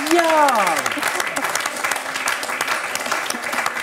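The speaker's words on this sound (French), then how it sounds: "vous avez raison d'applaudir" Studio audience applause on a French quiz show, loud dense clapping with a brief voice heard at the start, then steady cheering applause continuing.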